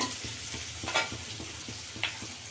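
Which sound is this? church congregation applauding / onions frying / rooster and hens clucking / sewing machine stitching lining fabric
onions frying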